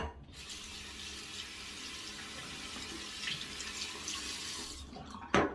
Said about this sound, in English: Sorry, I had to rinse that handle a little.